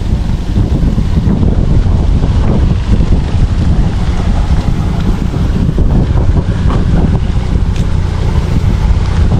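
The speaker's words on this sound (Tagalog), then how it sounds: "So sarap na hangin dito." Strong wind roars steadily and loudly across the microphone, buffeting throughout with a constant low rumble and no pauses.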